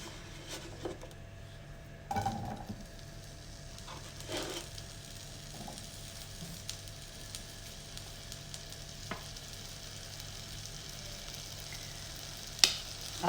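Potatoes frying in oil in a pan, giving a steady low crackle and sizzle throughout, broken by a few stirring scrapes and utensil clinks, including a louder tap near the end.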